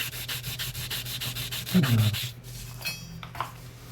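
A guitar pick being sanded by hand for an archtop guitar maker, steady rhythmic rubbing strokes close up, fading into quieter scraping toward the end.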